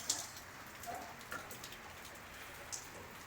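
Steady light rain patters on outdoor surfaces near a shop and a security office, a soft continuous hiss broken by a few sharper drips.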